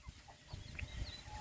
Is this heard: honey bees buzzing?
no